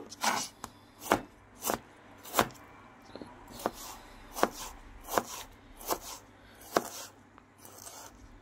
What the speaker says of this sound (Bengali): টমেটোগুলো আমি কুচিয়ে নেব